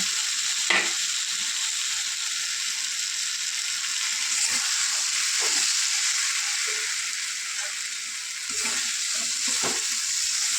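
Pointed gourd, soybean chunks and potato sautéing in spiced oil, a loud, continuous close sizzle with occasional stirring scrapes and a few sharp clanks.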